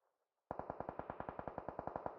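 Rapid automatic gunfire in a shooter video game, fired from a hill, about seventeen evenly spaced loud shots in a steady burst after a quiet start, no talk.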